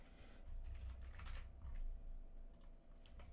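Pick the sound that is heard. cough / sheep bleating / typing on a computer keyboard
typing on a computer keyboard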